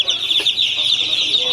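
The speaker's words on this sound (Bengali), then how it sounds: "এটা হচ্ছে টাইগার মুরগির 20 দিন 22 দিনের বাচ্চা" Tiger breed chicks, 20 to 22 days old, chirping in a dense continuous chorus of high peeping cheeps, close and loud, with a faint soft cluck underneath.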